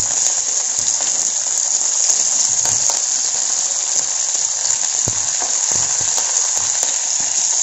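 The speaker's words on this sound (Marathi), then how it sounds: "उकडून ठेवलेला हुरडा, हरभरे आणि शेंगादाणे मिक्स करायचे।" Boiled sorghum hurda, chickpeas and peanuts stirred in a hot pan, with a steady sizzling hiss and occasional scraping knocks of the spoon, no talking.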